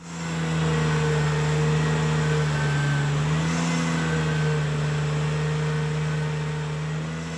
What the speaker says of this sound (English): Having the rake set so deep, I had to manually raise it at times to keep from stalling the tractor.